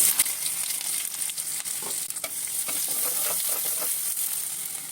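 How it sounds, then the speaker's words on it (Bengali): Chopped onions sizzle steadily in hot oil with bay leaves, a dense crackling hiss punctuated by sharper pops as they are stirred. "এখন পেঁয়াজ কুচি দিয়ে দিচ্ছি"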